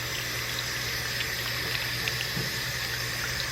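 Tap water runs steadily as hair extensions are rinsed under it, a continuous close gush with no break and no voices.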